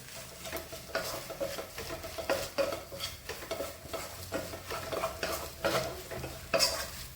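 Kothu parotta is stirred and mixed with salt in a hot pan over high flame: rhythmic scraping and clanking strokes of a utensil over a gentle background sizzle.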